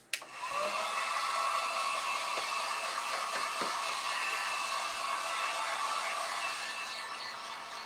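Hair dryer blowing on a freshly painted cedar pumpkin, a steady loud whooshing hum that starts with a click and runs continuously, with a few faint knocks and no talk.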